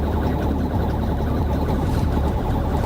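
A Fort Lauderdale police cruiser siren wails continuously during a chase, loud and close, blending with steady road noise and no voices.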